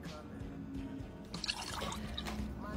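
Water splashing and dribbling as someone spills it while drinking, with small drips and liquid sounds amid light background noise.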